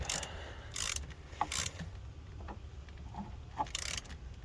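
A bolt on the coolant sensor housing of a 2009 Chevy Cobalt is tightened with a ratchet. Short bursts of quick clicking come in several separate strokes, close and fairly quiet, with faint knocks between them.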